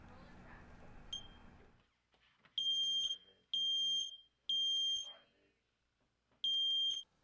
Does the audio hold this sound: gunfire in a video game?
no